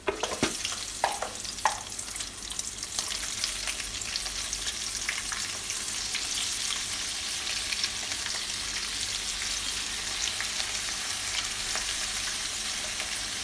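Catfish sizzles steadily in hot oil in a non-stick Cosmopan frying pan, a continuous close crackling hiss with a few sharp pops at the start and no voices.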